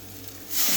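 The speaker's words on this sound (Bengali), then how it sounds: "গরম জলটা রেখেছিলাম, সেটা আমি এখন দিয়ে দিলাম" Hot water hits fried spice masala in a pan, and a low simmering hiss bursts into a loud, rushing sizzle partway through this brief moment.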